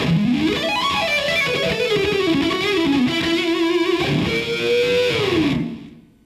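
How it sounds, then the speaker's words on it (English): Electric guitar played through heavy distortion, a sliding bluesy lead line of sustained, bending notes over a thick saturated tone, played alone and loud before cutting off and fading out. "With some distortion, that can sound real smooth."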